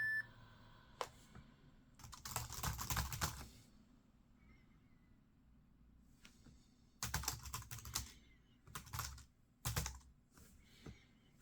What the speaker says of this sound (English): The keyboard does seem like an old school keyboard.